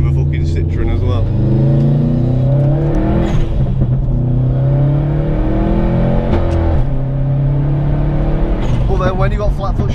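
A Subaru WRX STI engine revs hard through a flat-foot shift with the rev limiter engaged, its throaty droning tone rising and stuttering under steady talk from inside the car.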